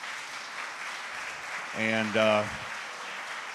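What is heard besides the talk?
audience applause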